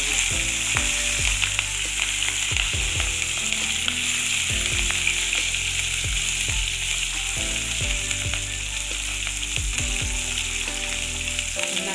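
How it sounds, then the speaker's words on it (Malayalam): Crushed ginger and green chillies fry in a pan, giving a loud, continuous hissing sizzle with occasional stirring scrapes over a steady tonal background hum. "ഇഞ്ചിയും പച്ചമുളക്ക് നന്നായിട്ട് മൂത്തു"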